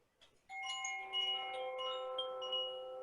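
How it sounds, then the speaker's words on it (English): Koshi wind chimes ring out with gentle, sustained metallic tones that begin after a short pause, layering into long shimmering overlapping notes heard close and clear with no talking. "as the sounds from the Koshi wind chimes, these gentle sounds"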